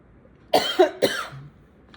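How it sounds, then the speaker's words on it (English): Two harsh coughs in quick succession, close to the microphone, followed by a brief quiet throaty sound. "Sorry, I had a little coughing fit."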